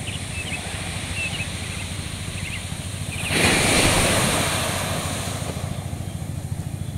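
Ocean waves on a beach at M-Beach near Kalianda, Lampung, a steady wash of surf with one louder wave breaking and fading midway, faint bird chirps above.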